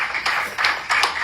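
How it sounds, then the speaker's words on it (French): Applause in an office: a few bursts of hand clapping, close and moderately loud, in quick uneven groups over about a second. "applaudissements dans le bureau"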